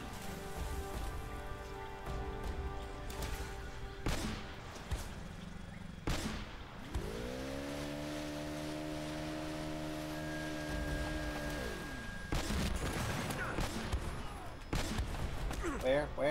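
Gunfire in Uncharted: Drake's Fortune, a sharp shot bursting out amid dense rain-like game ambience, with a sustained droning tone and scattered cracks, mixed under a player's excited talk.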